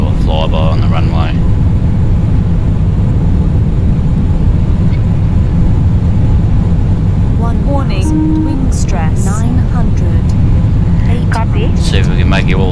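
A jet roars on afterburner during a low flyby over a runway in the Orbiter 2016 space flight simulator, a loud, steady broadband rumble that holds throughout while someone talks over it at intervals.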